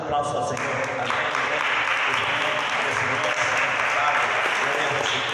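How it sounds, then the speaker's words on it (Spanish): A church congregation applauds in a sustained, even round of clapping that carries steadily from start to finish, dense and fairly loud in a reverberant room. "Denle un aplauso al Señor."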